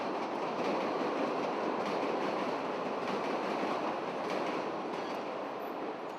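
An elevated train on Chicago's Loop rumbles past steadily, a dense broadband roar holding the same level throughout with faint rail clatter, fairly close and unbroken by voices.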